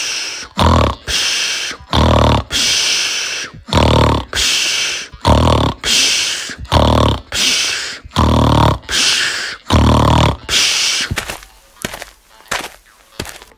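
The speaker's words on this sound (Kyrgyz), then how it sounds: "дөө коңор тартып уктап калат" Giant snoring in a Kyrgyz animated mountain folk tale, loud rasping snores repeating in a steady rhythm of about one per second, close and alone, ending with a few quicker snorts.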